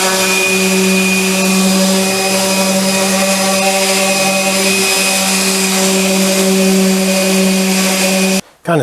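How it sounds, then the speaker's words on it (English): A power sander works oak boards for a pair of night stands, giving a loud, steady whine with a strong hum that runs unbroken for about eight seconds before cutting off briefly near the end. "Kind of sanding as I go"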